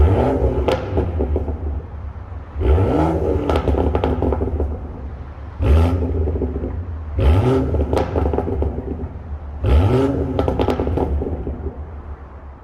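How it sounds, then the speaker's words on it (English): A BMW M140i fitted with an M Performance exhaust revs hard in a series of loud, rising blips, each burst followed by crackles and pops from the exhaust, repeating about every three seconds over a steady idle rumble. "here's a clip of what the car sounds like now since the work was carried out"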